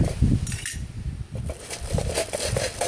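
A folding spork clinking against a metal camping pot, a series of light, bright metallic taps and rattles at close range, irregular and fairly loud with no talking.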